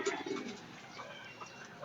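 A pigeon coos softly nearby, with a short low cooing call at the start followed by quieter murmurs and faint rustling.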